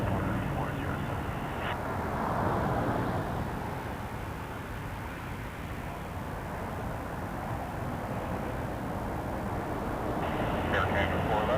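A Porter Airlines Embraer 195 taking off at Toronto Pearson Airport, its jet engines making a broad, steady roar that swells and fades slightly, heard from a distance with talk over it.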